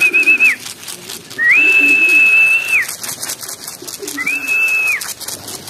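Three whistled calls, rising and then holding a steady pitch, are followed by pigeons returning to their loft, with fluttering and soft cooing beneath the whistles, fairly close and loud.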